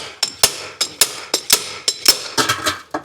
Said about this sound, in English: I have to get a slide hammer